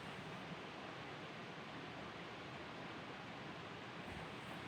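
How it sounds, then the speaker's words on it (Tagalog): A creek flows with a steady, dense wash of rushing water, even and unbroken throughout, with no voices. "Ito po yung sapa sa aming lugar."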